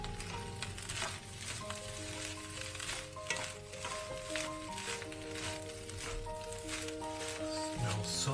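Tuna egg fried rice with fish roe is stirred in a hot pan, a close continuous sizzle with scraping stirs, over soft background music and no speech.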